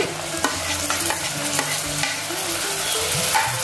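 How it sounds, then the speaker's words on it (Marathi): Chopped onion, green chili and tomato sautéing in a hot pan to soften the tomato: a steady close sizzle with a spatula scraping and stirring through it at an irregular pace. "आपल्याला टोमॅटो मऊ होईतर हे सर्व परतून घ्यायचंय व्यवस्थित"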